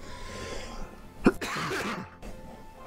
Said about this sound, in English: Really bad cough there. Just came in all of a sudden.